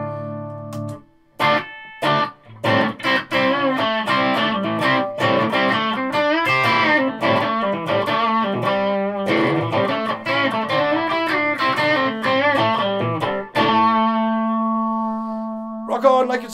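Electric guitar played through a Tone City Nobleman overdrive pedal, a busy run of driven chords and picked notes with a few sharp stops early on, ending on a sustained ringing chord, loud and close with no talking.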